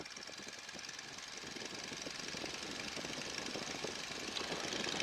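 Stearman trainer biplane radial engine during a run-up, a steady rough rumble that slowly grows louder as power is raised, with no talking over it.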